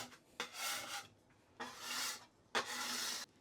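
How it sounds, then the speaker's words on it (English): A bench scraper rasps across solid pasta dough on a work surface in three long scraping strokes, close and fairly quiet, separated by brief pauses. "I am going to just use my bench scraper"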